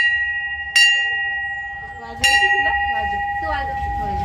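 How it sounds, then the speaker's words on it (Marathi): A small bell is rung at a home Ganesh shrine with a few separate clear strikes, each leaving a long, bright ringing tail, while faint voices murmur in the background. "घंटा वाजव ना"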